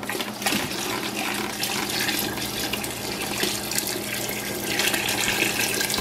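Maple sap poured into a boiling pan, a continuous splashing pour of liquid over bubbling, close and fairly steady throughout.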